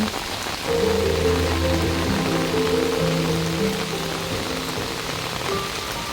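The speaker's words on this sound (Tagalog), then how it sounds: "Sarap ng ulan." Rain pours down steadily in a botanic garden, a close, continuous patter on leaves and surfaces, with soft tonal sounds running beneath it.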